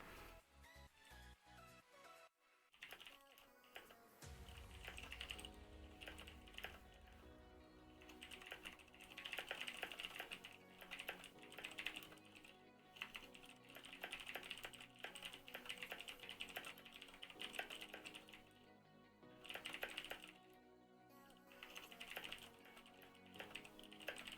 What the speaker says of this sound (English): I think I'm going to leave the typing sound in